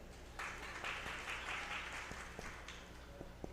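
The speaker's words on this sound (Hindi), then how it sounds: "अब बजाओ ताली" An audience claps at a spiritual motivational talk, a few seconds of moderately loud, quick applause that fades into scattered, faint claps.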